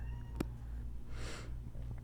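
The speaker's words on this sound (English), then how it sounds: "Cats." A cat lets out one brief, breathy meow over a steady low background hum, preceded by a single sharp click.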